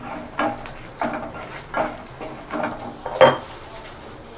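Onion gravy (salan) with cumin powder and salt is stirred in a sizzling pan, a spoon scraping in several distinct strokes over a steady frying hiss, with a brief metallic clink near the end.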